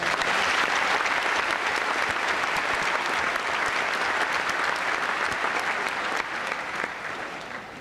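A graduation ceremony audience gives loud, sustained applause, a dense, steady wash of many hands clapping that fades slightly in the final second.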